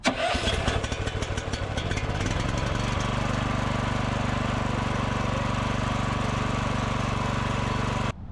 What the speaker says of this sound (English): I got the engine on,